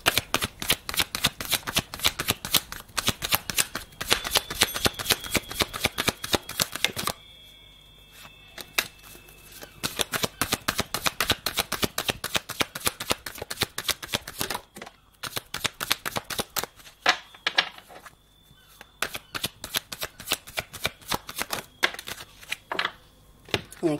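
A deck of cards is shuffled for a card reading, rapid riffling bursts close and crisp, repeated several times with short pauses between rounds.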